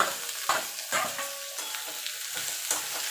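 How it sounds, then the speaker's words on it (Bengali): Radish greens stirred into onions frying in oil in a pan for a Bengali-style dish, with a steady sizzle broken by several scraping stirs of a spatula, close and fairly loud, no talking. "পেঁয়াজটা ভাজা ভাজা হয়ে গেছে এবার শাকটা দিয়ে দেবো"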